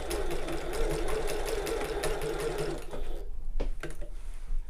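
A sewing machine stitching a tote bag runs steadily at close range with a fast, even whirr, then stops and gives a few short clicks and mechanical clunks as the fabric is handled.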